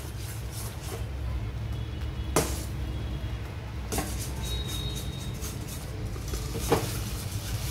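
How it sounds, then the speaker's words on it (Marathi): Puffed rice (churmure) tipped into a pan and stirred for chikki, a soft continuous rustle and scrape with a few sharper knocks of the spoon against the pan, steady and close. "चुरमुरे घालूया।"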